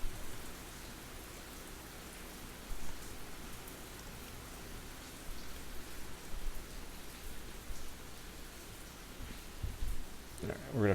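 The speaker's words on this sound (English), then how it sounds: "So enjoy the ambience of the rain." Steady rain falls outdoors as a continuous broadband hiss of drops striking surfaces, holding fairly even throughout with a few louder swells and a sharper patter near the end.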